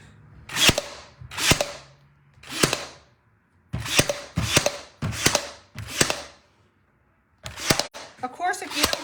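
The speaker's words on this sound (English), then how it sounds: "let me start nailing down" A nail gun fires into a painted wooden porch leaner, several sharp, separate shots spaced about a second apart with brief pauses, loud and close, with a little talk near the end.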